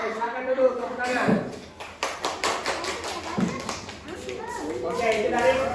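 A class of students applauds in an Indonesian classroom, with scattered taps and claps under steady talk from a teacher and children.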